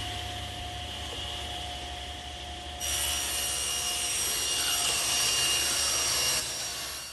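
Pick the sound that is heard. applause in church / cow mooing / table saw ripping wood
table saw ripping wood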